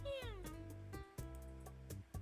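A cat meows in the video game Dandelion: Wishes Brought to You, first with a long, rising and falling call, then shorter mews. It sounds close and quiet, with faint game clicks between the calls.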